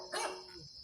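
A dog gives a single short bark, close and clear, with a faint tail afterward and no voices.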